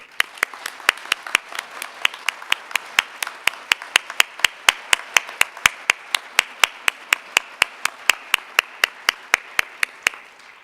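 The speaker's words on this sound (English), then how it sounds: "This is an opportunity to applaud her." A small audience at a Peralta college Flex Day staff meeting claps for an economics professor, with sharp, evenly spaced individual claps that sound close and fairly loud, nearly one person's steady rhythm throughout.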